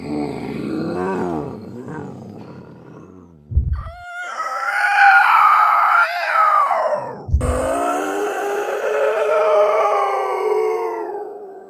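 Screams reworked with sound-editor effects for a horror film, heard as three loud, drawn-out cries: a lower wavering wail, then two higher sustained shrieks, each cut off abruptly, with no talking.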